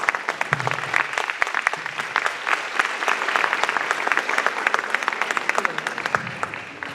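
A seated audience at a talk and debate breaks into warm, sustained applause, a crisp, continuous patter of many hands clapping close by, with some faint voices murmuring underneath.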